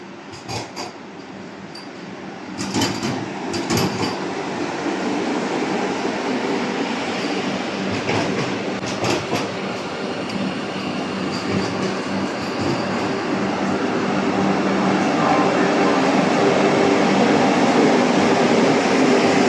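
Vande Bharat Express train at a long station platform in India, a steady loud rumble of rail noise with occasional clanks and clicks, growing slightly over about twenty seconds, without speech.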